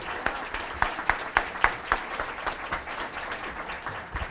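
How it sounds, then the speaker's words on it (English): An audience applauds middle school competitors at an academic challenge event, with moderate clapping and distinct sharp individual claps standing out in an uneven rhythm. "Round of applause for Ridge Middle School,"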